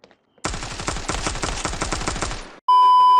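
An AK rifle firing in the mobile shooter Standoff 2, a loud, tightly spaced automatic burst of a dozen or so rapid shots lasting about two seconds, ending abruptly before a brief steady electronic tone.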